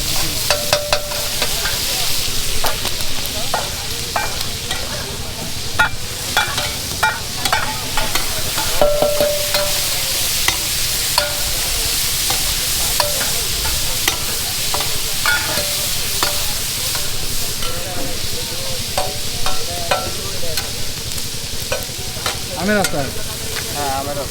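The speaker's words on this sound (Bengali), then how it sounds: "ডিরেক্ট ভাজা হবে হ্যাঁ" Food fries in a pan with a loud, constant sizzle while a spatula scrapes and taps the pan over and over in quick, irregular strokes throughout.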